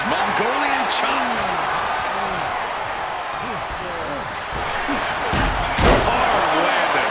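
In a WWE 2K26 match, a wrestler lands hard on the ring steps, a heavy slam that booms out near the end over a constant roaring arena crowd, with commentary talking throughout.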